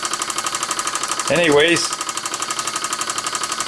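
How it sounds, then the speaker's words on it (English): An Ernst Plank Meteor toy steam engine running under steam, giving a fast, steady, even pulsing chuff with a faint high whine, while a voice briefly speaks over it midway. "little steam engine a while back, and I had never run it under steam, so there we have it"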